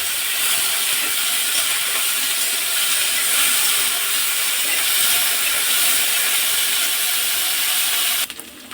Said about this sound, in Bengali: উচ্ছে আলু সিমটা আমি ফোড়নের মধ্যে দিয়ে দিলাম